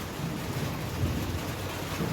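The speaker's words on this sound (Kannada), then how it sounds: "ಎಷ್ಟು ಗುಡುಕ್ತಿದೆ ಗೊತ್ತಾ? ಗುಡುಗು ಮಿಂಚು ಅವಾಗ್ಲಿಂದಲೂ ನೋಡಿ" Low thunder rumbles on and off beneath the soft, steady hiss of light rain just beginning to fall, heard at a distance and quiet throughout, with no voices.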